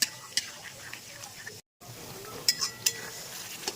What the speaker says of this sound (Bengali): এটাকে দিয়েও একটু বেশ খানিকক্ষণ কষিয়ে নেবো